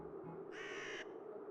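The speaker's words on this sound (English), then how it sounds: "Sorry about the birds." A single harsh crow caw, brief and fairly close, cuts through a faint steady ambient hum in a scene from The Whispered World video game.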